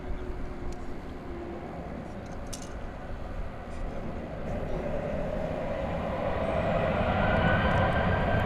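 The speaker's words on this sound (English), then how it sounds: "There may be another FedEx plane coming over the bridge." A FedEx plane passes over a bridge near DFW Airport at night, its jet roar a steady broadband rumble that swells gradually louder as it approaches, with no talking.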